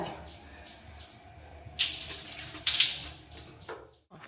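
Water gushes from a campsite tap at a riverside camping ground in Kaeng Krachan, Phetchaburi, starting after a quiet stretch and running strongly and close for a couple of seconds before cutting off.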